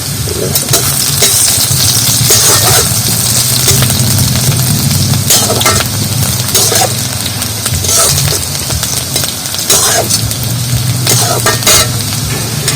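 Onions and a cut dried red chilli fry in oil, a loud, continuous sizzle punctuated by repeated clicks and scrapes of a spatula stirring the pan.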